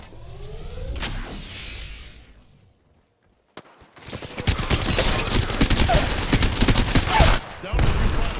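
Rapid automatic gunfire from the game Apex Legends bursts loudly after a short quiet gap, sustained crackling volleys with a few pauses, close and dense, with faint game voice lines.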